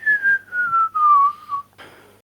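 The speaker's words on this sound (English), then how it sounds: "Oh, don't you dare start whistling" A person whistles a single sliding tune at close range, the pitch gliding gently downward over about two seconds, then a short breathy burst before it stops; no talking.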